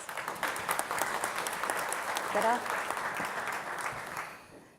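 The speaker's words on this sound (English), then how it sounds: "let's give them a round of applause, please" Audience applause for a panel at the FIPP World Congress 2017, a steady wash of many hands clapping that holds for several seconds before tapering off at the end, with a faint voice briefly audible partway through.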